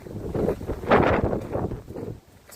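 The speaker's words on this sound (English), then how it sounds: "It's windy, I'll tell you that much" Gusty wind buffets the microphone outdoors on a bush walk at Blackheath, rising and falling in loud rushing surges with no talking.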